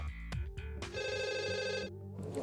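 A telephone rings at a busy emergency 112 call center in a regional police situation room, a short electronic ring burst with a sustained tonal tone, heard close and fairly clear with a few knocks before it.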